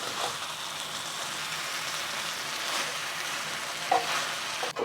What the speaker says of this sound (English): We're just gonna cook it for about a minute or two to heat the tofu through again.